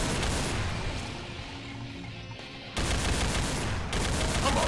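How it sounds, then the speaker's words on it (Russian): Rapid gunfire in the video game Doom Project Brutality, a loud dense stream of shots that eases briefly, then bursts back in sustained automatic fire with booming impacts. "Темп стрельбы меня прям реально радует."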